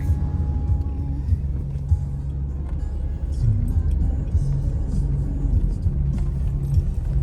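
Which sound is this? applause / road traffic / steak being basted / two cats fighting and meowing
road traffic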